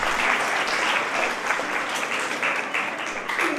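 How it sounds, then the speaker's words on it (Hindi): An audience at a national youth council anniversary function claps continuously to welcome a guest, a dense, steady patter of many hands at close range throughout. "एक बार जोरदार ताली बजा के स्वागत कर दें।"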